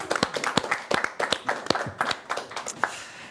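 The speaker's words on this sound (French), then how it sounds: "On peut applaudir à Émeric, bravo Émeric." A live audience claps to cheer a contestant at a televised regional competition finale, a close, crisp burst of uneven handclaps with no talk over it.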